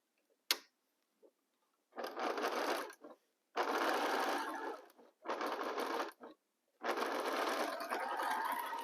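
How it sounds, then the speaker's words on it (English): A sewing machine stitching quilt block fabric in short repeated bursts, about five runs separated by brief pauses, with a light click just before the first run. "start sewing"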